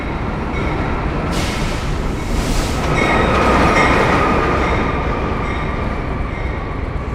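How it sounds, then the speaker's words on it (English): A New York City subway work train rumbles steadily past at close range, with a ringing bell tone and some wheel screech riding over the roar. "That's why you heard that weird bell, because it's a worker train."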